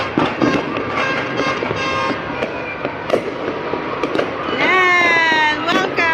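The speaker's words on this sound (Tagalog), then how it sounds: "Ang ganda ng fireworks nila!" New Year fireworks going off overhead, a dense run of crackling bursts and whistling streaks that rise toward the end, with excited voices shouting over them.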